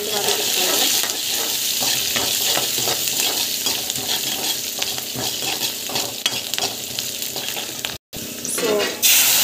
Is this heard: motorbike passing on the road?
no